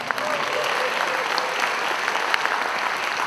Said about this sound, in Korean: 심사위원님께 박수 한 번 보내주시니다